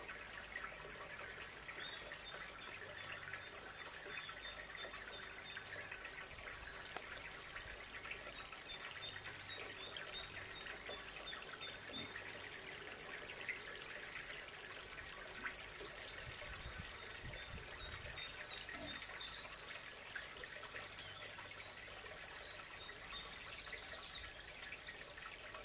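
Water trickles and gushes steadily into a pigs' trough from a hose or tap, a continuous splashing flow held at a fairly even level, with faint background noise and no talk.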